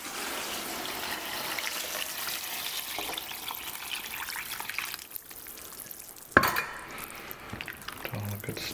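Olives curing in a bucket of brine being stirred with a spatula, giving a steady, close wet swishing and trickling that runs continuously, with a sharper knock of the utensil against the bucket near the end.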